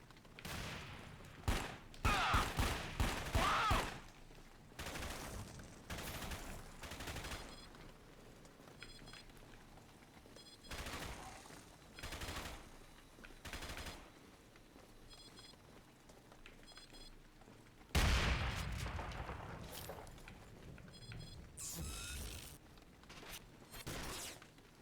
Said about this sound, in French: Je vois pas qui me tire dessus.